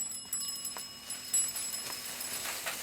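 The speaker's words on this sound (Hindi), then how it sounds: "साइकिल की घंटी सुनाई नहीं देती?" A bicycle bell on a street rings in quick repeated metallic trills, bright and fairly close, heard alone over a quiet background.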